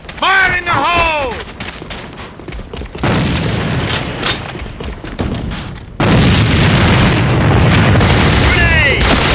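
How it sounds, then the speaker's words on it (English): Gunfire and grenade blasts ring out in the online shooter AVA: loud rolling explosions and bursts of shots follow each other, with shouted voice callouts at the start and near the end. "Changing magazines! Fire in the hole!"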